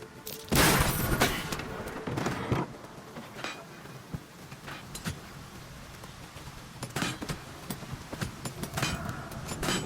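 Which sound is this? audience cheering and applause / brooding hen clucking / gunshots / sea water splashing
gunshots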